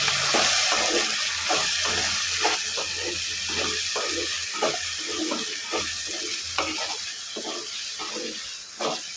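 Spoon stirring garam masala powder into a prawn curry in a pan, a steady run of soft scraping strokes over a continuous hiss of steam and sizzling, with faint background music underneath.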